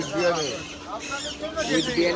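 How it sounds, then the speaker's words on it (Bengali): Pet birds at a Sunday bird market in Srirampur, including breeding birds, chirp and twitter in brief high calls close by, mixed with people talking. "এখানে দেখতে পাচ্ছি ডিম বাচ্চা করা পাখি বন্ধুরা দেখে নাও"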